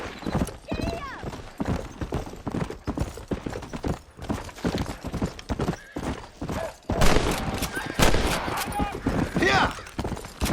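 Hooves pound in a fast, continuous clip-clop as a horse gallops in Red Dead Redemption. A voice calls out over the hoofbeats, and a brief whinny rises among them.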